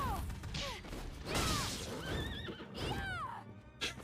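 In the video game Bloodstained: Ritual of the Night, a horse whinnies and neighs several times with shrill sliding cries, along with clattering game effects and thuds. It is loud and busy, with no talking.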